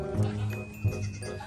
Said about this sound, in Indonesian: Yang ini ada kambing atau domba.